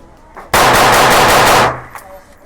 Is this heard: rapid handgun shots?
yes